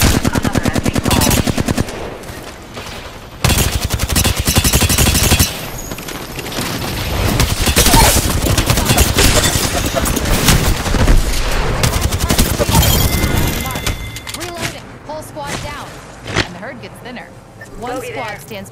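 Automatic gunfire crackles through a video game firefight in long, dense bursts, loud and nearly continuous, with sharp single shots mixed in and brief lulls, while a voice talks over the shooting.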